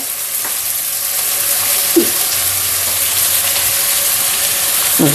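Onions frying in a pan with popped mustard seeds, a loud steady sizzle close up, with a few scraping stirs of a ladle.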